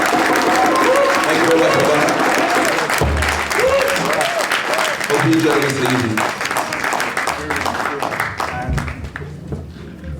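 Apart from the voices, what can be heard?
audience round of applause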